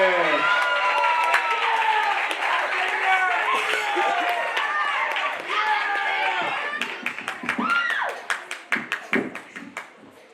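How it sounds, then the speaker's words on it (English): Theatre audience at a staff talent show applauding and cheering with many overlapping voices, a loud sustained wash that thins toward the end into scattered individual claps. "Big round of applause for Xavier"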